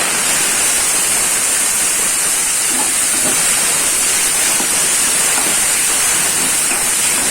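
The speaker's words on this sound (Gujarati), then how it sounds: "ત્યાર પછી આપણે ઉમેરવાની છે ભાજી. હવે આપણે ઉમેરી દઈશું." Fenugreek leaves dropped into hot oil with deep red fried garlic sizzle loudly and steadily, a dense hiss that holds without pause from start to finish, with no talking.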